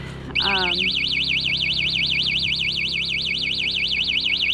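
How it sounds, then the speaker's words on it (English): A loud electronic alarm kicks in abruptly and wails nonstop, its pitch rapidly warbling up and down in a steady siren pattern, after a brief spoken word. "inside testing the alarm. That's what you hear."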